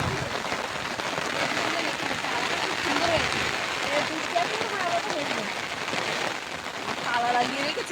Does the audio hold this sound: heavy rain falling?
yes